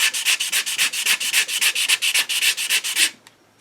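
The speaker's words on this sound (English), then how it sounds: "that's why I'm rubbing my hand over the work" Hand rubbing back and forth over a sanded wooden HW30 air rifle stock, a steady run of about twenty close, loud, dry strokes in quick rhythm that stops abruptly near the end, with no talk.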